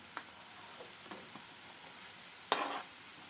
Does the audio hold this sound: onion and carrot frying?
yes